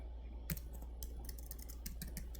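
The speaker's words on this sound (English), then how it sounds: "I'm just going to hit my keyboard" Quick computer keyboard typing, a handful of light clicks scattered across a couple of seconds over a steady low hum, fairly faint and without speech.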